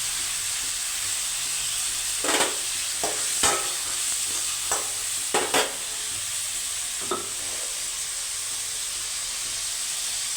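Ingredients for a cowpea curry sauté in a hot pan, a steady bright sizzle broken by a handful of sharp spatula scrapes and clinks at irregular intervals.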